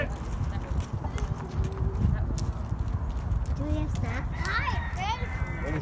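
A horse being readied for a rider on a ranch, its hooves clip-clopping steadily up close beneath constant talk and a voice.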